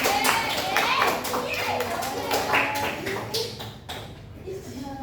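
Students clap in a classroom, a brief ragged round of hand claps with talking mixed in, tapering off toward the end.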